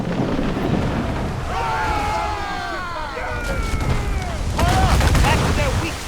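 Ship cannons firing in Assassin's Creed 4: Black Flag, booming blasts over a steady rush of wind and sea, with shouting voices in between.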